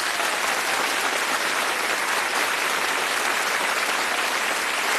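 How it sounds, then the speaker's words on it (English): The studio audience of the UK darts game show Bullseye claps for a contestant, producing loud, close, unbroken applause that stays even for the full five seconds. "Give them a round of applause for Mark."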